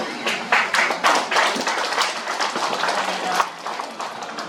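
A room of attendees at a Korean hometown association's annual general meeting claps to approve the financial accounts; the clapping is brisk and continuous, swelling and easing slightly over a few seconds.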